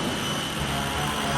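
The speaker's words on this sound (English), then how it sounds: "And the throttle jet surged ahead." A throttle jet surging ahead, a loud, steady, dense engine roar with a broad rushing hiss that fills the short stretch without a break.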